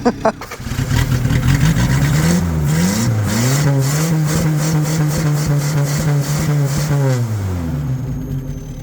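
A rare Toyota engine with a clogged muffler runs loud and steady, its mid-pitched drone rising and falling slightly through a few throttle changes.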